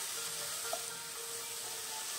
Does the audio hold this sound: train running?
no